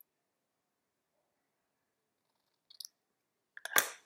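A small snip of 28-gauge Kanthal resistance wire being cut for a rebuildable vape atomizer coil: a couple of faint ticks followed by one sharp, close metallic clip, alone in a quiet room.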